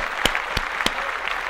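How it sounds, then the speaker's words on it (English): A few people clap together at the end of a podcast recording, with three sharp, separate claps spread over a moment. The claps are close and fairly loud above a faint room hiss. "Hold on, we need to clap."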